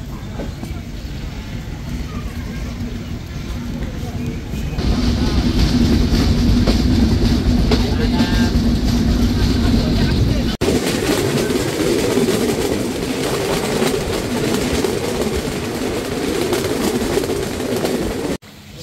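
Sundarban Express passenger train pulling into Chuadanga railway station in Bangladesh, a steady loud rumble of wheels and carriages with a brief lull partway through, mixed with faint background voices.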